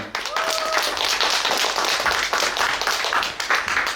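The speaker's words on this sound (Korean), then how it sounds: "문태진 선생님을 박수로 모시겠습니다" Audience at an outdoor poetry concert lecture claps to welcome a speaker, a short burst of brisk applause that stays close and fairly even for a few seconds.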